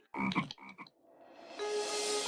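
Frog croaks in a television comedy scene, a few loud close bursts followed by a brighter sustained noisy wash.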